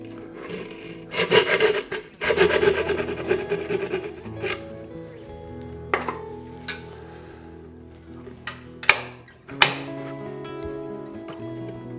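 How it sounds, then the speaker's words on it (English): Hand saw cutting along the grain of wood for a natural-edge hollow form, heard as bursts of rough back-and-forth rasping strokes, followed by scattered knocks and taps in a quiet workshop. "So what I'll do is I will saw here."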